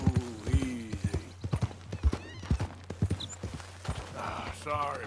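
Horse hooves clip-clop in a steady, rapid rhythm on the ground in Red Dead Redemption 2, close and prominent, with a whinny and someone speaking over the hoofbeats.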